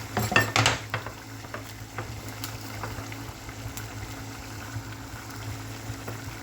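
Ground meat and potatoes are stirred in a pan, a utensil scraping and clinking against the metal over a steady sizzling simmer, close and continuous with no talk.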